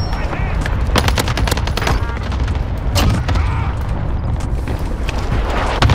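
Loud, continuous gunfire in the battle royale Warzone: rapid automatic bursts and heavy cracks with deep booms, close up, while someone talks over the shooting.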